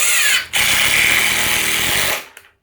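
Ryobi One+ 18V impact driver driving a screw, a loud close whirring burst with a brief dip just after it starts, then a sharp cutoff followed by a small rattle.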